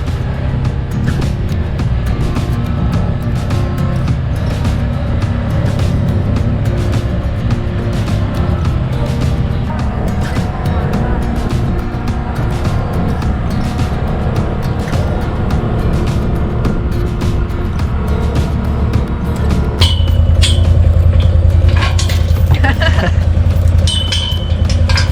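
Steady car engine and road rumble from inside a vehicle heading home from a cattle farm, continuous and fairly loud throughout, with a brief shift in tone near the end.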